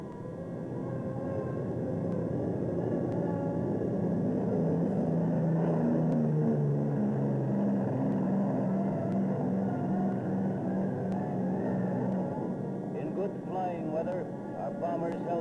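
A 1943 wartime film track in which Lightning fighter planes scramble off: a loud sustained drone of many aircraft engines fills the clip, partly covered by narration.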